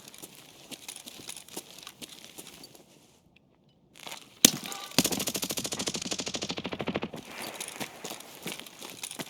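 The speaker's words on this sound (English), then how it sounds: "Thought I just heard a grenade go." A grenade blast in the Escape from Tarkov single-player mod: a sharp loud crack followed by a few seconds of dense rattling, crackling debris-like noise, standing out from a quieter, sparse background.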